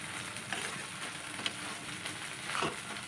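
Egg makhani with chopped green chillies frying and being stirred in a pan: a faint, continuous sizzle with soft scrapes of stirring, heard on its own without any talk.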